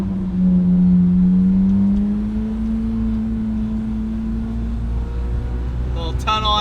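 A 2023 Lamborghini Huracan Tecnica revs its engine inside a tunnel, a loud booming tone that climbs and holds with echo, then fades before sharp crackles at the end.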